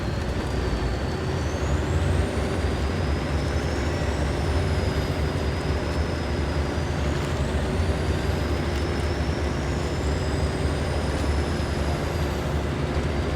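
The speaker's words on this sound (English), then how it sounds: "we're going to just fire the truck back on" A pickup truck in the video game Expeditions starts up and drives on at a loud, steady engine drone, with rising whine sweeps from shifting gears and a hiss like air brakes at times. No one speaks.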